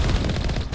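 Cannon fire in the Mass Effect video game, a dense, loud, continuous blast of rumbling booms and crackle lasting under a second.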